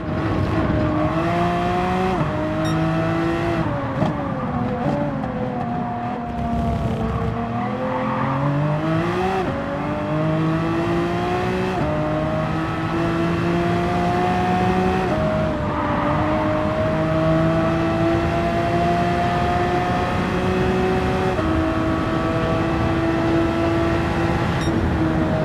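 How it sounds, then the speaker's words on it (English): A 2008 Nissan GT-R GT500 race car in Gran Turismo 7 climbs a hilly, winding course at full throttle, its engine note rising through gears with repeated upshift drops and sweeping pitch changes, loud and continuous. "Now apply full throttle and steer the car around the corners as you climb up the hill before crossing the finishing line."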